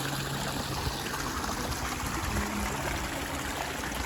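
Water trickles and gurgles over rocks of a pondless garden waterfall, splashing into a small pool below in a steady, close, continuous babble with no talking.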